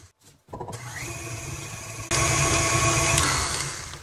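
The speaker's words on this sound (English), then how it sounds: "We're gonna beat the sugar and flour together for about 2 minutes until they're light and fluffy." Electric stand mixer beating sugar and butter until fluffy for homemade candy, a steady whirring motor hum that starts after a brief pause and then jumps louder and brighter as the speed increases.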